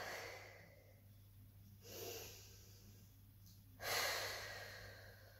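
Slow deep breaths during a Pilates relaxation stretch, two broad airy exhales a couple of seconds apart, close and soft, with a faint steady hum beneath and no talking.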